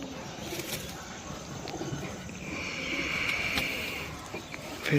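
Pigeons coo softly in a home loft, low repeated murmurs under a steady background hiss, with light rustling and a faint higher tone midway.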